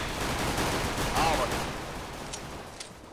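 Rapid gunfire from the video game CS:GO rattles steadily under excited shouting from players, fading slightly toward the end with a couple of sharper isolated shots.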